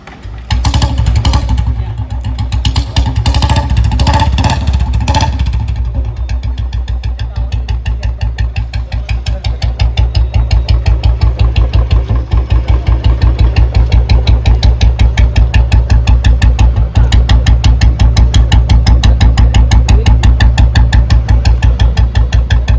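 A modified, restored old Electra motorcycle engine runs steadily with a loud, rapid thumping beat, after a brief burst of higher-pitched revving at the start.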